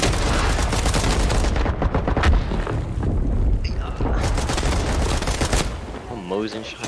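Mosin rifle gunshots in the Winter War setting of the video game Rising Storm 2, loud sharp reports mixed into dense surrounding gunfire and booms, with a brief quieter gap midway.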